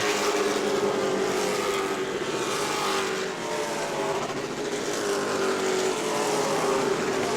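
Race cars lapping the New Smyrna racetrack in late-race running, their engines blending into a steady, loud, continuous roar that stays near and even throughout.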